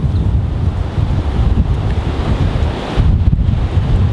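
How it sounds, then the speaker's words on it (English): Strong wind roars across an outdoor archery range in a steady, loud rush that buffets the microphone and swells in gusts toward the end. "I haven't shot in wind this strong in a long time."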